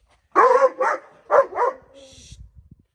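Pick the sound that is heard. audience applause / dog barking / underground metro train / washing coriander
dog barking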